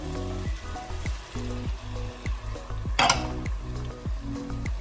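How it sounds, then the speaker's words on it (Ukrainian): Veal in a soy and mustard sauce with water, stirred in a pan over steady sizzling, with rhythmic scraping strokes and one sharper burst of frying noise midway. "Гарненько все перемішуємо"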